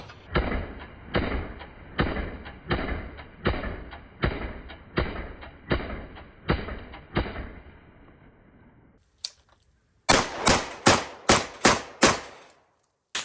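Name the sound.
Genesis 12 shotgun firing slugs at IPSC target 100 yards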